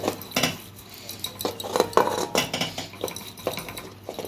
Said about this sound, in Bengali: আমি অনেকক্ষণ ধরে ঘাঁটছি এইভাবে ঘেঁটে ঘেঁটে ঘেঁটে